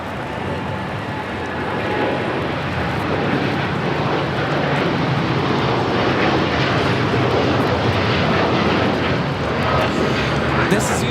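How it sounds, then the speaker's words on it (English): A United Airlines Boeing 787-10 Dreamliner taking off from Los Angeles International toward Tokyo Haneda, a loud, steady engine roar that builds slightly and holds across the whole stretch, with a voice faintly beneath it. "This is United Airlines Flight 39 taking off to Tokyo, Haneda on the 787-10 Dreamliner."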